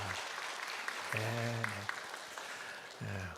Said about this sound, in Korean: 우리 박수로 한번 환영해 주시기 바랍니다.